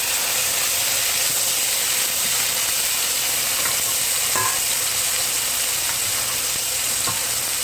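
A steak fries in a pan with a loud, continuous hiss of sizzling fat, close and steady throughout, with a few faint clicks and no voices.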